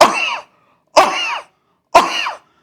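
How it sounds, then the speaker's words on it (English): A child's brassy, loud, rigid cough, three harsh barking coughs evenly spaced about a second apart, each abrupt and close, with silence between and no talk. "It's a brassy type of cough, rigid cough."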